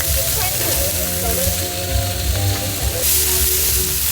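Ribeye steaks frying in a hot pan before a gorgonzola glaze is added, a loud, close, continuous sizzle with a brighter hiss surge near the end, with voices talking over it.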